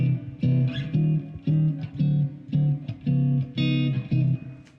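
A jazz chord turnaround played on an instrument, each chord struck and held briefly, moving through a short repeating progression, clear and alone.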